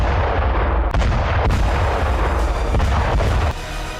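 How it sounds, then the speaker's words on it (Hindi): Russian rocket strikes in wartime combat footage on the Zaporizhzhia front land as a loud, dense barrage of booming explosions and sharp bursts, with several distinct heavy impacts close together before the rumble drops lower near the end. "रूसी सेना ने रॉकेट अटैक किया"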